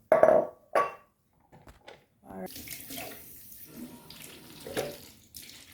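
Tap water runs into a sink in a home kitchen, starting after a few short knocks and handling sounds and continuing as a steady close splash with some clatter from the basin.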